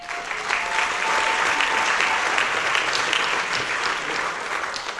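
An audience at a Morgan Hill community celebration applauding, a dense sustained clapping from many hands that swells and holds steady for several seconds, loud and close, with no speech over it.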